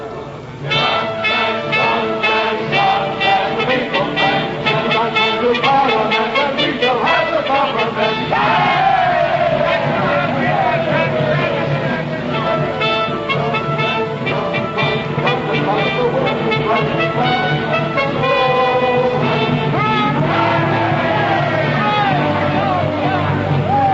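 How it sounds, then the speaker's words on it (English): Election day crowds on the march with bands playing, staged as a 1947 radio drama effect: a dense, loud wash of cheering voices and shouting over brass band music, sustained throughout. "As the outcome hangs in the balance, the bands still play and the crowds are on the march."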